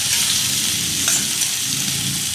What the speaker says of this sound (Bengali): পেঁয়াজটাকে ভালো করে ভেজে নেব যাতে গন্ধটা চলে যায়, কাঁচা গন্ধটা।